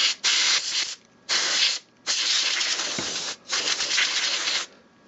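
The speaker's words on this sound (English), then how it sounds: "I was just going to spray it out, much like I would spray out my computer" Four long hissing bursts of compressed air spraying clean the parts of a CritterZone pet air purifier, each a second or more, separated by short silences, close and loud.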